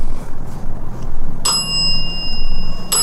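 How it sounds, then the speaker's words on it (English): A bell on a ghost-hunting device rings twice during a paranormal investigation at the old Davie School, once at about the middle and again near the end. Each ring is bright and clear, with a lingering metallic tone over a low background rumble. "That bell is so trippy."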